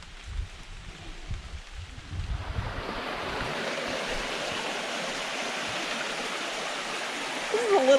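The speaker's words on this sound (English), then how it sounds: "we're hearing water, so we think we're at least getting close to where the creek is" Creek water flowing on a rainy woodland hike, heard as a steady broad rushing wash that starts faint and grows fuller, with low rumbling wind buffets at the start.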